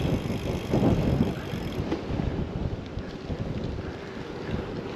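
Strong wind buffets the microphone while riding a gravel bike outdoors in Austria, a steady broadband roar with gusty surges and no talking.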